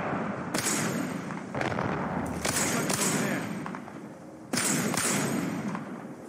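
A grenade blast in the Apex Legends shooter, several sharp thudding impacts and bursts spaced across the moment over a dense background of gunfire, fairly loud and close.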